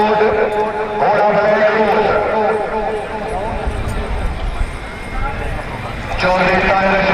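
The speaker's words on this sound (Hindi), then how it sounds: "घोड़ा" A horse runs at a neza bazi tent-pegging event at a festival in Kharian, Gujrat, its hoofbeats clip-clopping in a quick rhythm amid an outdoor crowd and an announcer's voice over a loudspeaker.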